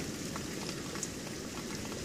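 Steady rain pattering down outdoors during a storm over a garden, a continuous dense hiss of drops with no voices.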